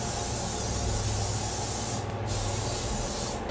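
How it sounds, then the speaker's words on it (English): Cooking spray from an aerosol can misted into a baking dish for a breakfast casserole, a close, loud steady hiss with a brief pause before a second burst. "Wait, let me spray that first. We want everything to come out easy."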